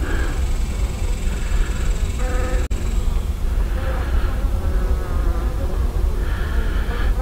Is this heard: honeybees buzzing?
yes